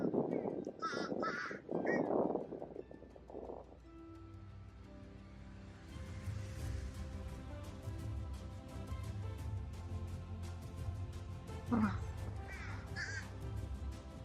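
Fish crows at a Florida pond at sunrise give repeated nasal caws, starting loud and close with a few quick calls, then continuing sporadically over steady outdoor background noise, with another burst of calls near the end.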